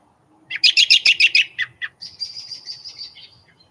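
Birds chirp outdoors close by: a quick burst of bright, repeated tweets followed by a longer, slightly softer trilling call, with no speech over it.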